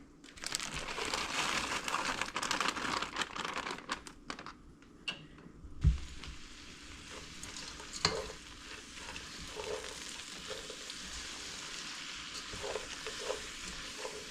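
Crinkling plastic seasoning-blend bag opened and tipped into a pot of olive oil for Dollar Tree red beans and rice, close, irregular crackles with a brief thump near the middle and sizzling underneath.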